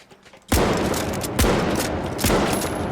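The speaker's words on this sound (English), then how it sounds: "Let's shoot a few shots." Sniper rifle fire in the video game The Finals: three loud, booming shots spaced about a second apart, each with a long rolling tail, close and alone without talk.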